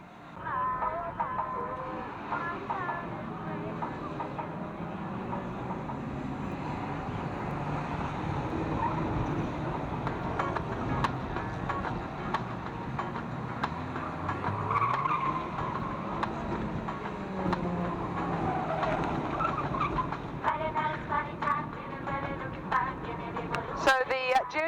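Junior race cars run laps of the Fleet Raceway oval, a steady roar of engines with occasional tire skids throughout, under continuous commentary over a loudspeaker.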